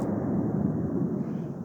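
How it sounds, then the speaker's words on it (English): A broad, steady roar of a jet passing overhead, rumbling and distant-sounding, continuous throughout with no talking. "That's the sound of their jets or whatever hitting the clouds."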